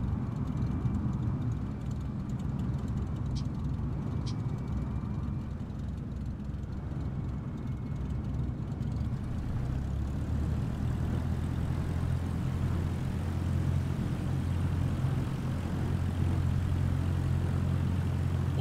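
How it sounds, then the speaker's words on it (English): Airplane engine in a flight simulator game, a steady loud droning hum with propeller-like buzz that shifts in tone midway and holds on as a continuous engine rumble, no voices over it. "We have a plane upside down here, ladies and gentlemen."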